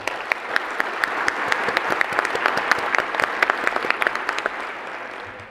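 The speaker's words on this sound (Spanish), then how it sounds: "uma salva de palmas" Sustained audience applause at the LACNIC 27 opening ceremony, a steady wash of many hands clapping with sharp individual claps popping out across the whole stretch, moderately loud and unbroken.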